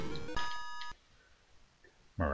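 In the Sega Master System boxing game Heavyweight Champ, the end-of-round buzzer gives one flat, loud electronic buzz lasting about half a second. A quiet stretch follows before other game sounds return.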